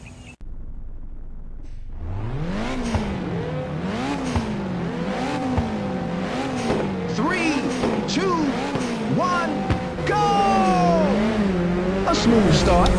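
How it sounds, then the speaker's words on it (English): Race car engines in the PSP video game Ridge Racer rev up at the start and then race, their pitch rising and falling in repeated sweeps as the cars accelerate and shift. The engine noise is loud and continuous, layered with other game sounds. "Now start your engines and get ready."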